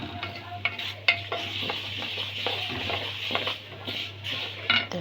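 Vermicelli fries in a pan with a steady sizzle while a utensil stirs it, scraping and clinking against the pan in irregular strokes, close up.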